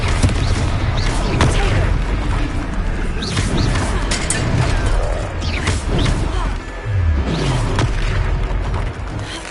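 A Confringo explosion spell goes off during a Hogwarts video game battle, loud booms and crashing impacts layered over continuous combat noise, with brief voices mixed in.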